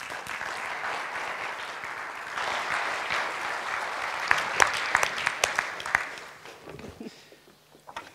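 An audience at a political discussion evening applauds warmly. The clapping swells, grows sharper with a few loud individual claps, then fades into quiet.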